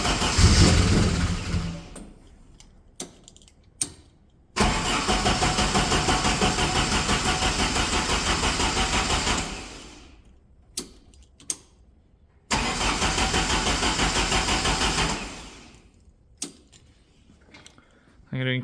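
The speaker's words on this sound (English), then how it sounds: "First start. It's going to sound like crap because the engine's sat for a while." A Saab 2.3 engine, long unused and fitted in a UAZ 452 4x4, cranks and catches, idling roughly and loudly, cuts out, then restarts and runs unevenly again, with clicks between attempts.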